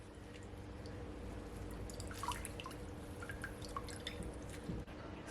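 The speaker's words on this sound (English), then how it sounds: "I'm just gonna strain it so no bits get into it" Ginger, carrot and beetroot juice strained through a strainer, giving a steady faint trickle and drip of liquid with small splashes, close and continuous, with no talking.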